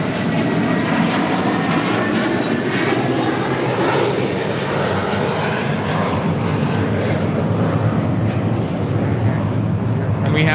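A JetBlue airliner on approach to LAX after a flight from Miami, its engines a steady loud broadband roar across the whole stretch, with people talking over it.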